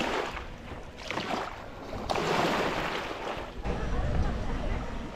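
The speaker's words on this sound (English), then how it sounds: "send the waters crashing on the beach" Waves from Lake Victoria wash onto a beach in Homa Bay County at sunset. The surf surges and rolls in several swells under a constant hiss of water and wind, with no pauses.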